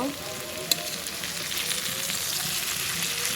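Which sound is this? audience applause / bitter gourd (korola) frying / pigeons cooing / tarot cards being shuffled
bitter gourd (korola) frying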